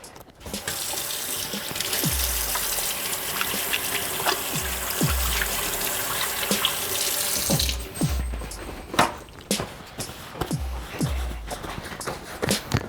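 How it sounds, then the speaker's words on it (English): A kitchen tap runs steadily into a sink during handwashing, with splashing and a few knocks and clatters under the close, continuous gush of water. "First, you gotta wash those hands."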